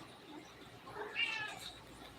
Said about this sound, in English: It's my cat. She's going off. She wants attention.